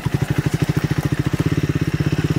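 A 2024 Triumph Scrambler 400X motorcycle thumps along through woods in second gear, its single-cylinder engine pulsing in a steady, rapid, loud rhythm close by.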